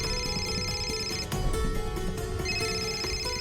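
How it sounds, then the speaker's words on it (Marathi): A mobile phone rings with a steady, repeating electronic melody in an indoor room, clear and fairly close, with no talking over it. "फोन वाजतोय तुझा"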